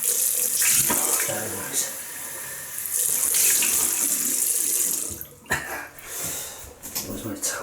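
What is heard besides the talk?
tap water running while rinsing off after a shave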